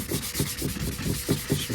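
Sanding blocks rub back the painted fairing of a BMW K 1200RS motorcycle in quick repeated strokes, a close, steady scratchy rasp pulsing in an even back-and-forth rhythm with no voices.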